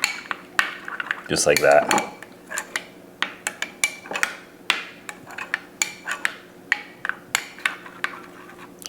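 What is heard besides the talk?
stirring shrimp cocktail sauce in a bowl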